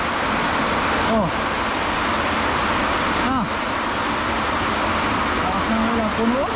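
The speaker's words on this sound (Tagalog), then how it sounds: "Lakas ng ulan." Heavy rain pours down on a hut at a farm, a dense, loud, unbroken roar throughout, with a few brief voices faintly audible beneath it.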